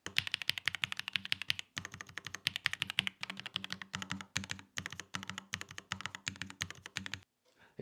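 Rapid clicking of the numpad 0 key on a Royal Kludge S98 mechanical keyboard, quieter and more muffled than other keys, a steady run of keystrokes with one short pause, faint and close.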